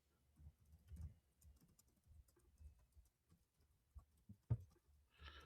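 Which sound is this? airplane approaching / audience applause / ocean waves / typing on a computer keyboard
typing on a computer keyboard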